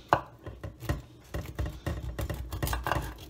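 Knife chopping and scraping through a fish, a run of sharp cuts at an uneven pace, close and moderately loud with no voices.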